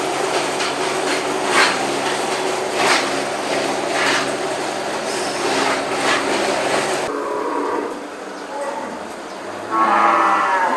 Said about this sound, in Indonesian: jadi kita akan nimbang sapi ya teman-teman ya